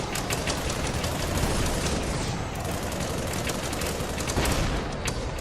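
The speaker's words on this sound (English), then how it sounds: "Hell, I got missiles too! We can have ourselves a little missile party!" Missiles fire in a mech combat video game in a rapid, dense barrage of overlapping launches and blasts, loud and continuous for several seconds.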